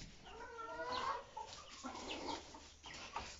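Several hens clucking inside a backyard coop, a close cluster of rising, warbling clucks and short calls over a low rustling background, with no one speaking.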